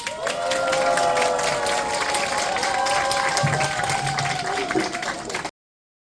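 A large audience applauds to open a party's New Year training meeting, dense steady clapping with cheering and crowd noise carrying for several seconds before cutting off abruptly.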